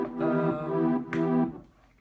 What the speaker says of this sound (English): most basic supersaw that you ever